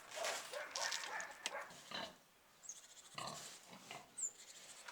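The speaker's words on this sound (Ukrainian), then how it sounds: "Тепер в нас буде снідати перша партія поросят." Piglets grunting and squealing in an excited chorus before feeding, close by, with bursts of overlapping noisy grunts and a brief lull midway.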